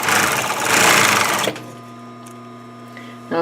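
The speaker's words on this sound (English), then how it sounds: "I'm going to sew in a diagonal this way. I'm going to chain these together." Sewing machine stitching cushion fabric pieces in a chain, a loud, steady motor whir that runs for about a second and a half and then stops abruptly, leaving a quiet hum.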